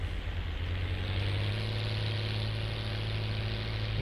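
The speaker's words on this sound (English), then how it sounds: "he is driving a brand new tractor and a fairly new planter" A brand new tractor pulling a planter in Farming Simulator 19 runs with a steady low engine drone, even and continuous at close range with no other sounds.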